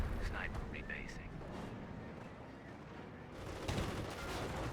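Calliope rocket artillery fire in the video game Company of Heroes, a broad rumbling barrage of distant blasts rolling on throughout while a commentator talks over it.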